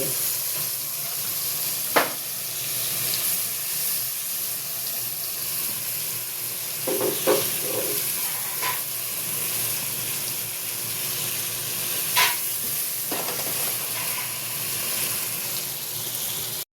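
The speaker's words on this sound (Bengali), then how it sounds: "মশলা কষছে।" Spice paste of poppy seeds, mustard, cashews and green chillies fries in a pan with a steady close sizzle and hiss, broken by a few sharp scrapes and clinks of stirring.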